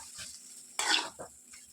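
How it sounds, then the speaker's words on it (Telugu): Semiya vermicelli tossed with chili powder in a pan over high flame, giving a short burst of crackling sizzle and the scrape of stirring, fairly quiet and close, with no talking. "1 నిమిషం వరకు బాగా ఫ్రై చేసుకుందాం"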